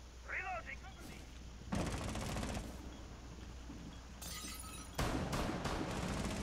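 In Rainbow Six Siege, a loud shotgun-style blast and a shattering window crash come through game audio close up, with a second sharp burst a few seconds later. Players talk over the action.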